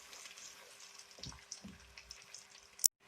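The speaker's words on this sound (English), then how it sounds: "I am frying these onion slices till they become golden brown." Soft, continuous sizzle of onion slices frying in hot oil, with a few low thumps and a sharp click before it cuts to silence.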